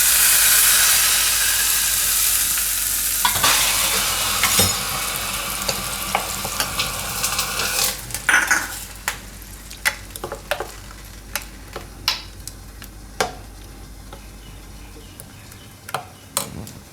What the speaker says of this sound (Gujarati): આ વઘાર આપણે ચટણી ઉપર નાખી દેવું.